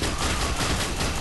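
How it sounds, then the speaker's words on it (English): A dense, loud burst of rapid gunfire from the online shooter game F.E.A.R. Online fills the short moment without pause. "Why am I the only one shooting?"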